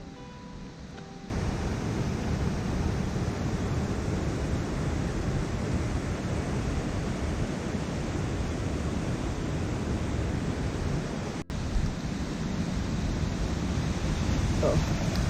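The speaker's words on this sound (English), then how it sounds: "Getting closer to the falls because you can already hear the water." McCloud Falls waterfall, a steady broadband roar of rushing water heard continuously at moderate distance, with a brief dropout near the end and no voices.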